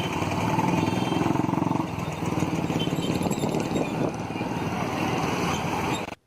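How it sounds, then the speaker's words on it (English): Road traffic noise, a steady engine drone from passing motor vehicles with a rough, buzzing motorcycle-like tone that holds at moderate loudness throughout before cutting off abruptly at the end. "Example, traffic sound."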